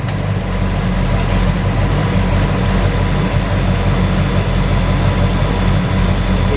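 Pontiac GTO engine held at raised RPM, a loud steady mechanical drone with a constant low hum and no talking.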